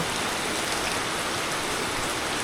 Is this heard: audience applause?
no